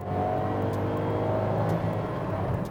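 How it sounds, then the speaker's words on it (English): A 2018 Ford Aspire's small petrol engine revs hard toward its 6500 RPM redline, holding a loud, strained whine with a rough buzzing edge throughout. "you can rev it all the way to its 6500 RPM red line. It does get noisy though"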